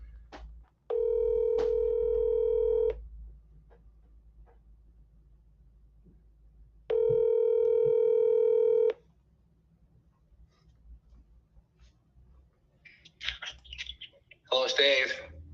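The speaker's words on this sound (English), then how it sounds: "All right, let's call up Dave." Telephone keypad tones dial a cell phone number in two loud, steady bursts of layered dual tones about two seconds each, separated by quiet room hiss, with brief rustling and clicks near the end.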